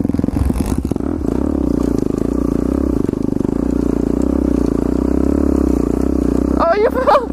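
A pit bike's engine drones loudly and steadily while it drifts, with a burst of clatter and scraping near the start as it goes down, and a voice cries out briefly at the end.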